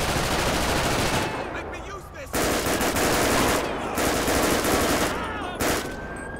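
Sustained automatic gunfire rattles through a police shootout in GTA 5 with the LSPDFR police mod, dense bursts running almost continuously with brief pauses, loud and close.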